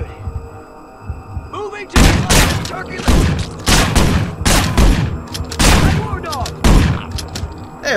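Gunfire in the video game Manhunt, a low hum followed by a series of heavy, booming shots in uneven bursts, fairly loud and close.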